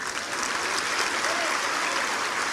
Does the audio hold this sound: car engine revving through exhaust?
no